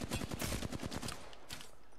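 Rapid automatic gunfire from a close-range firefight in Apex Legends' 3v3 Arena mode, a dense burst of loud repeated shots through the first second and a half, then trailing off into softer scattered cracks.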